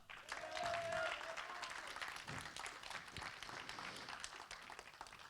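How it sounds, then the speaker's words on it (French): Conference audience in Grenoble clapping, a thick continuous round of applause from a crowd in a hall, swelling early then holding steady. "je vous propose d'applaudir encore plus fort tous les organes."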